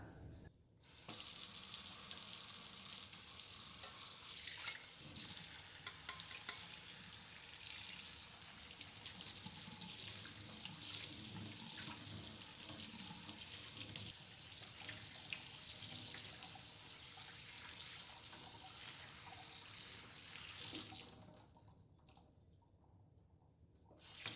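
Tap water runs steadily over soaked boba pearls in a strainer at a kitchen sink. A continuous close hiss and splash of rinsing lasts for about twenty seconds, then the water is shut off.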